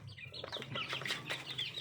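Bangkok chickens on a small backyard poultry farm cluck softly and continuously at a distance, a low, faint farmyard murmur with no talk.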